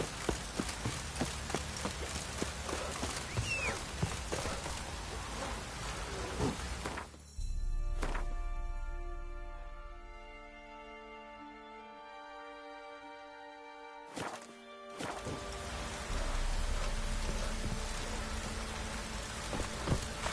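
Steady hiss of rain in a PS4 video game, broken in the middle by a stretch of sustained tones before the rain noise returns.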